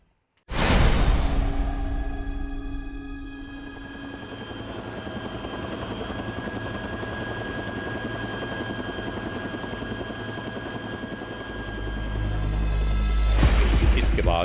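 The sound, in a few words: helicopter flying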